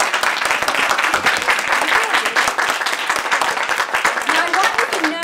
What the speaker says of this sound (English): I would like all of my leaders to please stand up so that we can give them a round of applause.